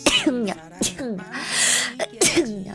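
A sneeze bursts out amid laughing, excited talk, with sharp broadband blasts standing out over the chatter several times across the stretch.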